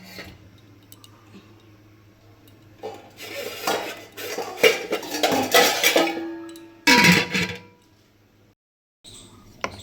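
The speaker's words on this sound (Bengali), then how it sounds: "এইবার আমি নেড়ে নেব, নিয়ে চাপা দিয়ে দেবো।" A spoon stirs food in a metal pot with scraping clatters and knocks, ending in a sharp clank as a lid is set on top, followed by near silence.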